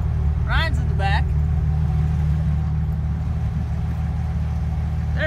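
A 1965 GMC Carryall being driven, its engine giving a steady low rumble throughout, with a couple of brief high squeaks near the start.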